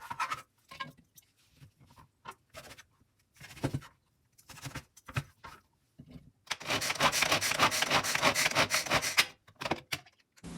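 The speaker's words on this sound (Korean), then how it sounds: "만두소에 들어가는 속재료를 다지는 과정을 보여드리겠습니다." Irregular knife strikes knock against a cutting board while mincing dumpling filling, followed by a few seconds of loud, continuous harsh rasping from a chopper before the chopping resumes.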